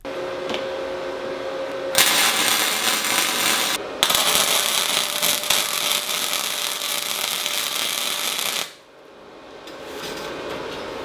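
Steel kicker piece being welded to a rock slider runner, a loud steady crackling hiss of the arc in two long bursts separated by a brief pause, then stopping to quieter background.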